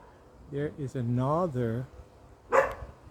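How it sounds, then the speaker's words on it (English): Dogs bark near a breadfruit tree along a hiking trail in rural Hanover, Jamaica, with a short burst at close range after someone speaks briefly. "you can hear the dogs barking"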